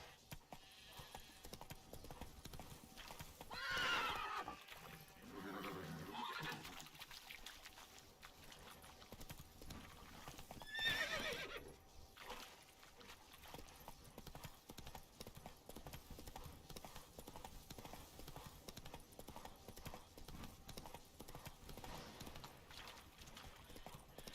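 Horse hooves clip-clop at a gallop in The Witcher 3: Blood and Wine, with a couple of neighs and whinnies rising over the steady rhythmic hoofbeats and game ambience.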